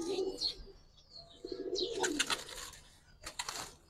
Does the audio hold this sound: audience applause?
no